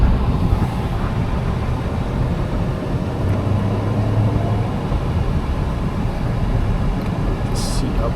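A 2019 Nissan Rogue SUV pulls away and drives on, its engine and road noise a steady, broad rumble that stays even and fairly loud throughout, without talk over it.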